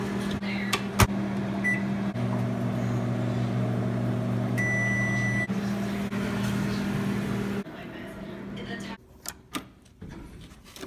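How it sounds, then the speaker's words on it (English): A microwave oven heating pizza gives a steady mechanical hum with a low drone for several seconds, broken by a couple of short beeps, then cuts off leaving quieter clatter. "I still have pizza and I'll microwave it so that I can eat it."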